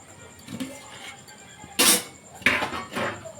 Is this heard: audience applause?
no